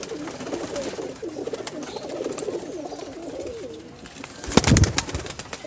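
High-flying breeding pigeons coo in repeated low, throaty phrases through the first half, followed by a louder burst of fluttering or handling noise near the end.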